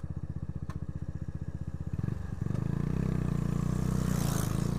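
Two-stroke motorcycle ringing past close by, its rapid buzzing putter rising into a louder, steady drone, heard alone without talk.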